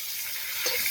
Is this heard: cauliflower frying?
yes